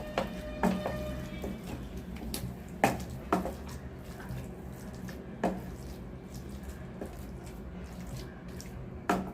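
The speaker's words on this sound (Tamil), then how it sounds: "அதுக்கப்புறம் நம்ம தண்ணி ஊற்றிக்கலாம்" Water splashes and trickles into a pan of mashed pav bhaji vegetables nearby, with a few sharp clinks and drips breaking through the steady watery wash.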